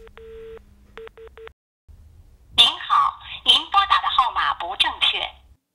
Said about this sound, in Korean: 이 지역 전화로 8자리를 눌러봤습니다